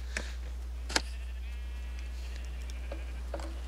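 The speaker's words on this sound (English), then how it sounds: "All the sheep are looking at him" Minecraft sheep bleating in a video game, a few short soft bleats scattered over a steady low background hum, with no talking.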